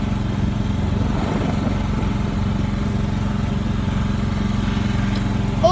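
A tractor engine runs steadily throughout a ride, a constant low mechanical drone with no pauses, close and fairly loud.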